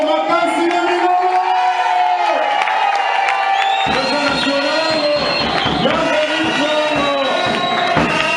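A crowd at an outdoor rally cheers and shouts in acclaim, loud and continuous throughout, with whoops and voices rising over a dense roar of many people.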